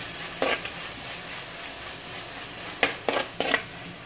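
Crushed ginger and garlic hitting a hot pan for a fish curry, giving a steady low sizzle with a few brief bursts of stirring scrapes, fairly close and with no talk.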